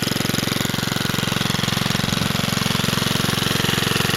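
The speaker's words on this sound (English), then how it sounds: "it's actually my best push mower. I use it. I'll let it warm up for a bit." A push lawn mower engine idles steadily while warming up after a carburetor cleaning, with a close, loud, even chugging pulse and no talking.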